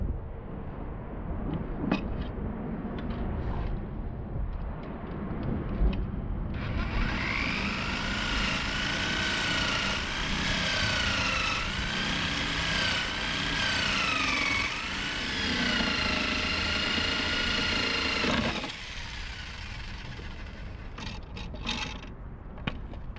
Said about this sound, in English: using that jigsaw was very difficult